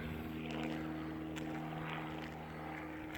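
A propeller airplane drones steadily overhead, a continuous low hum with engine tones holding level throughout, moderately loud and alone with no talk.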